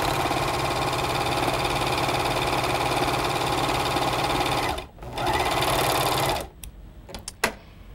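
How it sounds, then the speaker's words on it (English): A Speedylock 299 overlocker serges fabric with the differential feed set to 6, running in a fast, steady mechanical whir for about six seconds with a brief dip, then stopping and leaving a few small clicks. "serge the other side"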